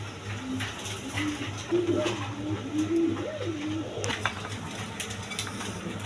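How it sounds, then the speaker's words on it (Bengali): A pair of Shorting pigeons cooing up close, soft repeated rolling coos in a loose rhythm over a low background hum, with occasional light clicks and no talk. "এখানে এক পেয়ার শার্টিং কবুতর আছে দেখেন"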